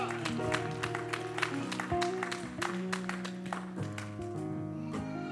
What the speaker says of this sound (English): Come on, clap it up for that.